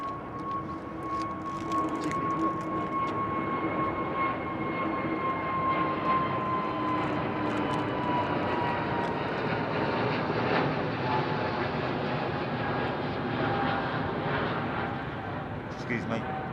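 A jet airliner departing overhead from London Heathrow Airport, a loud sustained engine roar with a whining tone that slowly falls in pitch as it passes, with voices talking over it.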